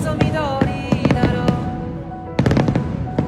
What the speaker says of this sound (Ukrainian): Фестиваль феєрверків на річці Суміда проходить біля вежі Tokyo Sky що у самому центрі Токіо